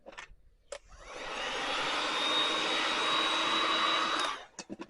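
A heat gun blasts hot air onto tint film on a BMW headlight, a steady broadband whoosh that starts after a few faint clicks, holds for about three seconds, then cuts off.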